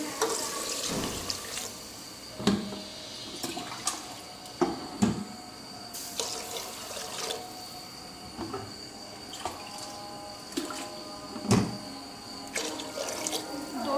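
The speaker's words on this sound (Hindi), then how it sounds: "अब हम इसमें ऐड करने जा रहे हैं पानी।" Water runs and splashes into a pot of fried masala and chickpeas for pulao, a steady trickle broken by sharp intermittent splashes and clinks, fairly faint and close, with no talking.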